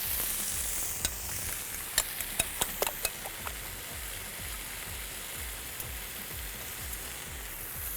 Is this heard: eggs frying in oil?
yes